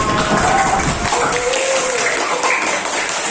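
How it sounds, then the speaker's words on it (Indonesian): A class applauds group A in a lively, close burst of clapping with students' voices over the top, the clapping easing off after the first second. "Tepuk tangan untuk kelompok A."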